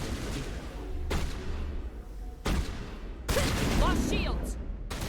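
Gunfire in Mass Effect Legendary Edition, a few sharp bursts of shots mixed with dense combat noise, moderately loud, with someone talking over parts of it.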